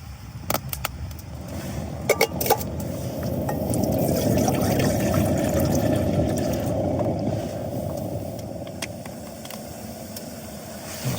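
A camping stove burns steadily with a broad roaring hiss as it heats water outdoors on open moorland, building in strength after a few clicks near the start and holding close and loud throughout with no talk.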